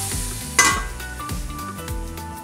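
Onions fry in a pan over low to medium flame for an Indian rajma curry, a steady close sizzle broken by a few scraping stirs and one sharp clatter.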